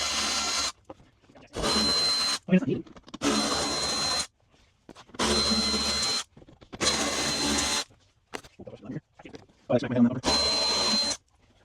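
A power drill removes the 10 mm bolts holding the front bumper of a G35/G37 sedan, whirring in about six loud, close bursts of one to two seconds each, with quiet pauses and some talk between them.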